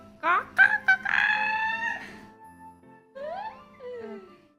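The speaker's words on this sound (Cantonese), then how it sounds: "公雞公雞" A rooster crows loudly, then a second rising-and-falling crow follows after a brief pause, close by with some faint background noise.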